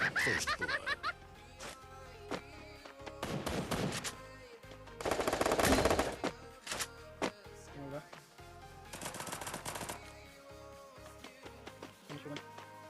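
Automatic gunfire in the Free Fire video game strikes the player, coming in several loud bursts of rapid shots separated by short gaps, with smaller scattered pops and game sounds between them.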